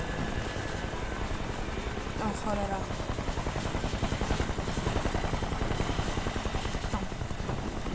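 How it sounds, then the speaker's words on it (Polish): A helicopter in the shooter Kane & Lynch 2: Dog Days roars overhead as a steady, loud rotor drone, while a player speaks briefly over it. "Śmigłowiec?"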